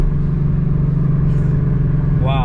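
Loud, steady V8 exhaust drone from a Mustang fitted with longtube headers and a Borla ATAK exhaust, idling or cruising in third gear with a deep constant rumble, ending in a quick rising rev.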